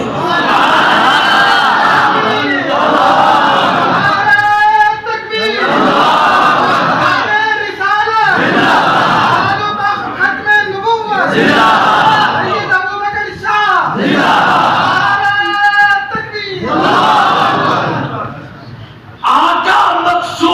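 A large crowd at an Urdu religious gathering roars a loud collective takbir response, repeated in several surging shouted bursts over about twenty seconds, with a lone voice calling out between them.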